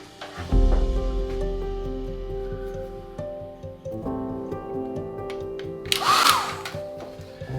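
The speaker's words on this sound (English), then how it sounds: "I'm just going to dry it quickly now." An electric hair-dryer-style heat tool blows steadily over a watercolour landscape painting, a continuous whirring hum that holds close and fairly loud throughout, with a brief brighter surge near the end.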